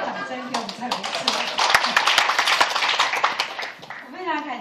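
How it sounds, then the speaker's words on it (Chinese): Scattered audience applause for Dr. Cai at a formal talk, close and fairly loud, with voices speaking over it at the start and end. "给他一个掌声，给我们蔡博士"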